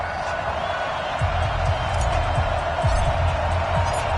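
Stadium crowd noise in an NFL football video game for the Atlanta Falcons versus the Chicago Bears, a steady, broad roar with faint thuds in it, heard as a constant background wash.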